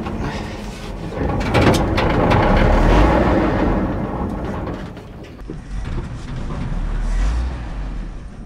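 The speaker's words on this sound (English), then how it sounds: "You saw that tire was spinning." A stuck 1962 Dodge D300 truck revs hard as a tire spins, a loud, sustained rumbling roar that rises and dips over several seconds with rough scraping bursts.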